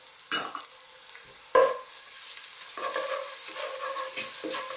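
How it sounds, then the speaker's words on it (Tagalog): Garlic sizzles in cooking oil in a pot, a soft steady frying hiss at close range with two sharper clacks of a utensil early on and light stirring scrapes afterward; no talking. "magigisa lang tayo. Umpisa natin sa garlic"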